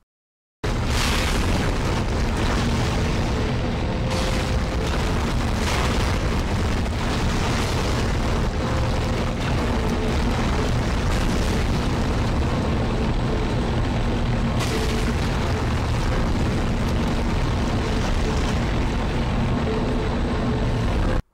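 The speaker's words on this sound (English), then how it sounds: "You meet up with Pirate Ellie and sail through the solid rock wall using some heavy guns." Heavy guns blasting through a solid rock wall in the Dead Space 2 video game, a loud, continuous roar of booming blasts and rumble that keeps going for about twenty seconds with no talk over it.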